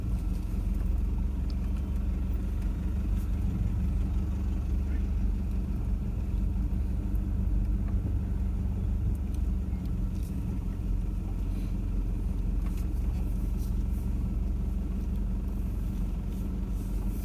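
Off-road vehicle driving along a muddy mountain track in the rain, heard from inside the cabin: a steady low engine rumble and drone that holds evenly throughout, with no talking.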